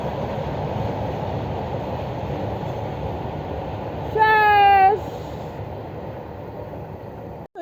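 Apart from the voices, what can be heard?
train passing by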